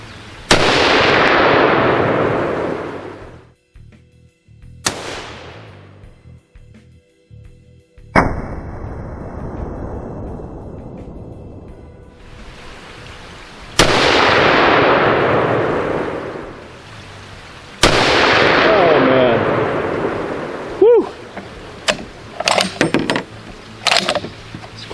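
Desert Tech HTI rifle in 50 BMG or 375 Cheytac firing several loud, sharp booming shots spaced a few seconds apart, each with a long decaying echo, followed by a few lighter clanks near the end.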